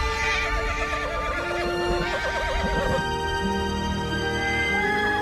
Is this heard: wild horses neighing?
yes